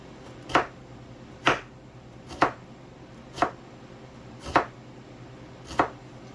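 A knife chops radishes on a cutting board in six crisp, evenly spaced strokes, each a sharp close tap about one second apart, with quiet between cuts.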